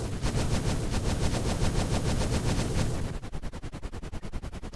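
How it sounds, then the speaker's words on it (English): Helicopter in a video game mod firing a rapid stream of rockets, dense continuous bursts that give way to slightly slower, distinct repeated shots, loud and close. "It shoots about 35 rockets and 1 missile"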